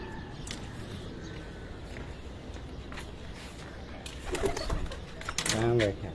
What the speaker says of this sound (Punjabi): ਇਹ 11ਵਾਂ ਕਬੂਤਰ, ਆਖਰੀ ਕਬੂਤਰ ਜੀ